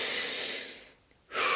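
A single slow, deep breath drawn in close to the microphone, a long steady airy inhale that fades into a brief quiet pause before the next breath begins.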